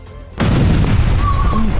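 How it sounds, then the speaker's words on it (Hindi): A single heavy boom from an Israeli artillery attack on a Gaza refugee camp strikes suddenly after a quiet moment, then rumbles on as a loud, dense roar with faint high tones over it. "चीख पुकार के बीच कई धमाके सुने गए।"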